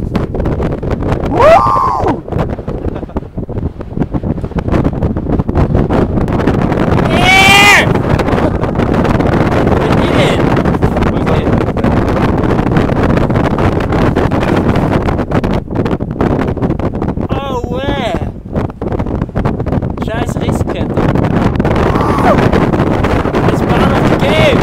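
Gusty wind buffets the microphone during a rock climb in Patagonia, a loud continuous roar that persists the whole time, with excited shouts and talk from the climbers breaking in now and then.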